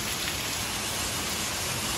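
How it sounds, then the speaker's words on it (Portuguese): Heavy rain pours steadily on a farm in Pratinha, Minas Gerais, a dense, constant hiss of water drumming on surfaces with no pauses. "Tá chovendo demais."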